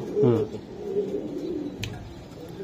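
Pure old-bloodline racing pigeons coo nearby, a low rolling call rising clearly at the start and then settling into soft, steady cooing beneath light background noise.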